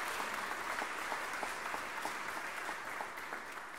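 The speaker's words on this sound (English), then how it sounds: "Can I request that we should give you, the audience, a round of applause?" A piano competition audience gives a sustained round of applause, many hands clapping evenly at a moderate distance throughout, with no talking.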